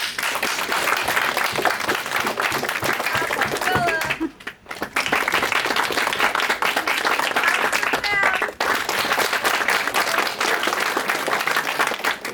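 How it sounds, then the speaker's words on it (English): An audience claps in sustained applause at a comedy show, a steady dense wash of hands with a brief dip near the middle, scattered laughter and voices mixed underneath. "Claps for Tage."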